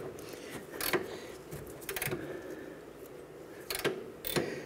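A rusty nut on a 1994-2004 Chevrolet S10 upper control arm mounting bracket is worked loose, giving a handful of sharp ratcheting clicks and metallic creaks in separate bursts against a quiet garage background.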